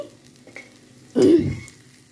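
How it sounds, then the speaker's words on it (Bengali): Sliced onions fry for Bengali beresta. A short burst of sizzling and stirring rises up close for about a second, then fades, with no talking. "আর এখানে আমি পেঁয়াজের বেরেস্তা করছি"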